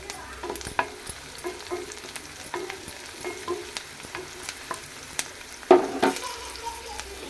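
Chillies frying in a pan for a tomato and cucumber curry: a steady close sizzle with spoon stirring and light scraping, plus an occasional sharper clink against the pan.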